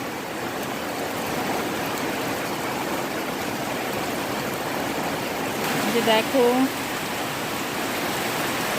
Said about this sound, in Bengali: এখন নেমে পড়লো বৃষ্টি দেখো কেমন বৃষ্টি হচ্ছে